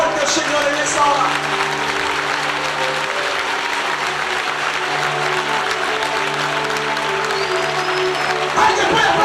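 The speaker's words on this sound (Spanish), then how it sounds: "Yo creo que alguien puede aplaudir más fuerte al Señor en esta hora." A church congregation at a Pentecostal retreat claps loudly and continuously throughout, a dense wash of applause with steady sustained tones of music or organ beneath.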